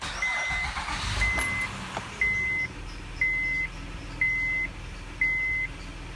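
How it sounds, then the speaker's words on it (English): A 2007 Honda Odyssey engine starts and settles into a low idle, with a series of evenly spaced electronic beeps repeating about once a second over the running engine. "Now we're gonna turn the car on, let it warm up for 4 to 5 minutes."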